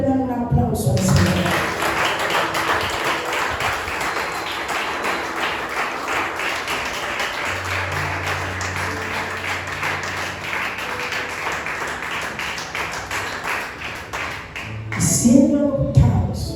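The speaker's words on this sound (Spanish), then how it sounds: "¿Cuánto le dan un aplauso al Señor?" Church congregation clapping together at a Sunday service, a continuous rhythmic applause filling most of the stretch, with speech at the start and end and a low sustained tone joining partway through.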